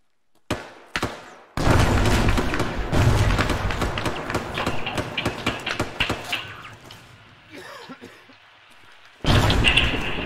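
A loud, close explosion from an RPG in Arma 3, set in the Iraq War, arrives as a sudden boom with a long rumbling tail. Scattered thuds and cracks of gunfire follow, and another heavy blast lands near the end.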